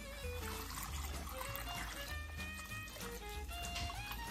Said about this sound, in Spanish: Le vamos a poner agua hasta que se llene casi la olla.